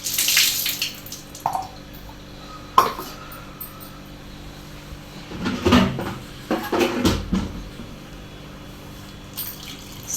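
Water from a tap runs in uneven bursts and splashes while tamarind is washed in a kitchen, with clinks and knocks of handling between the gushes.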